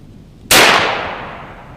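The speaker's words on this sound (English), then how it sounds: "Let's just see what one more shot gets us." A single sharp, loud report from an AEA Element Max .58 caliber air rifle, a sudden crack with a long fading tail, alone over quiet background.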